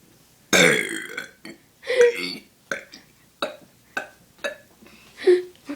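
A boy lets out a series of loud, close burps, one long drawn-out belch followed by several shorter ones in an uneven rhythm, with no talking between them.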